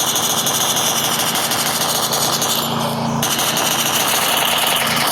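A vehicle engine in a battle royale video game drones steadily and loudly throughout, a continuous rough motor hum with a brief shift in tone near the middle.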